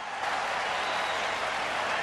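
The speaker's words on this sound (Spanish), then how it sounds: "espera el grito, la ovación del público" A tennis crowd roars with cheering and an ovation after Djokovic wins a great point, a dense, steady wash of noise holding at full strength for about two seconds.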